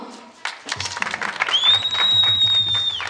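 Guests at a children's birthday party with a clown clap to vote for a contestant, giving a brisk round of applause mixed with chatter, while a high, steady whistle-like tone rings through the second half.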